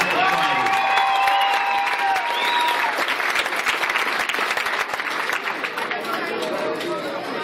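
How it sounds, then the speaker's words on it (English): Sustained applause with some cheering and chatter from the audience at a boxing event after a bout, loud and continuous, with voices mixed in. "Round of applause for these two fantastic"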